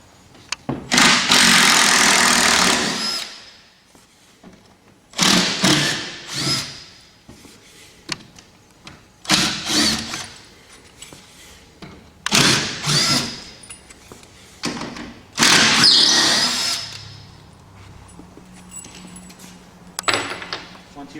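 Power drill backing screws out of the bottom of a wooden shipping crate, in several separate bursts of a few seconds each, with quiet pauses and light rattling between them; no talking.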